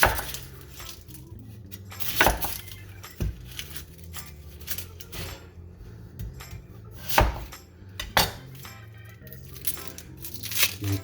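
A knife chops through an onion into quarters on a cutting board, giving scattered crisp cuts and knocks with occasional louder thuds against a faint background hum.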